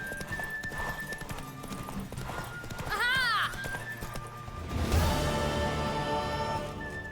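A horse gallops in a race in The Witcher 3, its hoofbeats a steady clip-clop under music and game sounds, with a shrill neigh partway through and a rising rush of noise later.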